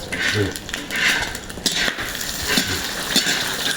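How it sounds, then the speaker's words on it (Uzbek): Fat (jiza) frying in a pot for plov in a teahouse kitchen, a constant close sizzle with utensils stirring and clinking against the metal, voices faintly in the background. "Jizani qovuryapmiz."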